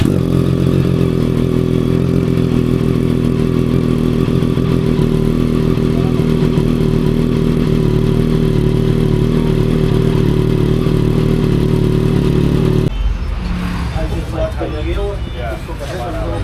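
Loud, close motorcycle engine, a Honda CBR650R or Triumph Street Triple RS with a Scorpion aftermarket exhaust, running with a deep, throaty exhaust rumble, holding a steady roar before stopping, followed by quieter background sounds.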